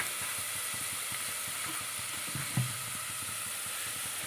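Moong dal sizzling steadily in a pan while being fried for pongal, with a continuous frying hiss and a few soft stirring scrapes, close and moderately loud, no talk.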